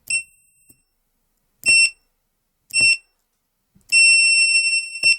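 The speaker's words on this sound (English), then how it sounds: "the buzzer is responding in exactly the same way as the LED" A small buzzer wired to a Raspberry Pi Pico sounds with each button press, giving four loud, shrill electronic beeps of uneven length, the last held longest, with silence between.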